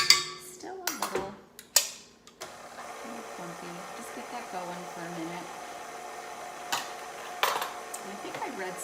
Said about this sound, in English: I just want this mixed up so it's not clumpy or anything